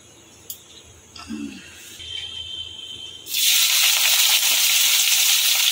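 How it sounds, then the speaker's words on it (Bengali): Prawns drop into hot mustard oil in a wok, shifting from quiet kitchen clinks and faint rustles to a sudden loud, close, continuous sizzle that holds to the end. "আগে চিংড়িগুলোকে ভালো করে ভেজে নেব।"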